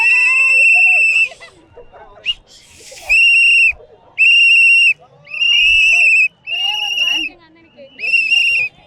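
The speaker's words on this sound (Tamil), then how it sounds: "விசில்." Crowds blow shrill whistles at Vijay's outdoor political campaign rally in Tiruvallur. About half a dozen loud, sustained blasts rise and stop in turn, with crowd noise between them.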